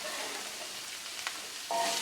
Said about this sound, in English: Got that nice sizzle happening already.